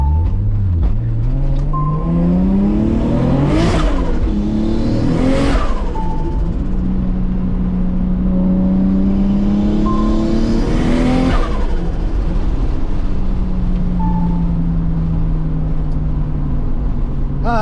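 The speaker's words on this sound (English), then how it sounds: "You gotta love a fucking nice screamer pipe, nice external flow." A 700hp JDM Toyota Supra with a 2JZ engine and screamer pipe exhaust, accelerating hard in repeated loud pulls, the revs climbing to a shrieking peak, dropping with each shift and settling into idle between bursts.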